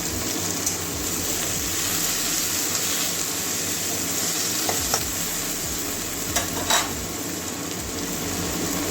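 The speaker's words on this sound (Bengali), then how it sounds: "পেঁয়াজ টমেটো লাল করে ভেজে নেবো" Onion and tomato frying in a pan for a pui shak (Malabar spinach) dish, a steady close sizzle with soft stirring scrapes and a couple of light clinks, no talking.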